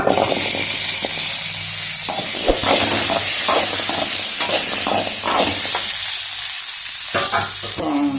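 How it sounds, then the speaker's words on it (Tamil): Shallots sauté in hot oil for a country chicken fry, sizzling and hissing loudly and continuously up close, with occasional stirring scrapes and no speech. "இப்போ முக்கால்வாசி வெங்காயம் வந்து நல்லா வதங்கிடுச்சு."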